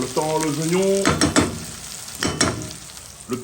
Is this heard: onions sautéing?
yes